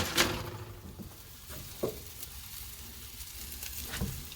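Steaks cooking on a Chud Box griddle with Wagyu beef tallow, a soft, fairly faint sizzle under a few low thuds and occasional scraping knocks.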